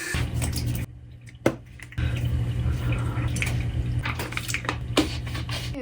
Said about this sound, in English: Let's wash my face super fast.